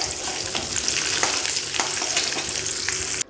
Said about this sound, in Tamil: எண்ணெய் விட்டு அதில் வந்து நல்ல ஒரு கைப்பிடி நிறைய வெள்ளை உளுந்து போட்டு நல்லா கோல்டன் ப்ரௌன் ஆகிற வரைக்கும் அதை வதக்கிடணும்